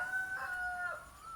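A rooster crowing at a home farm, a drawn-out faint call rising and falling over about a second, somewhat distant and alone.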